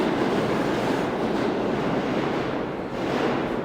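A subway train passes through a New York subway station with a loud, continuous rumbling roar. The roar swells and dips slightly as the cars go by, and no voices are heard over it.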